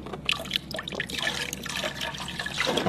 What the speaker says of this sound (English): So we pour some CLR into the water.